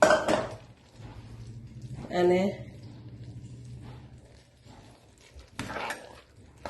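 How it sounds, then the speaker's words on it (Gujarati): Khichdo is stirred in a pot, with scattered clinks and scrapes of a spoon against metal and one louder clattering burst, heard close amid a quiet room tone. "હવે એને બરાબર સરસ હલાવી લઈશું"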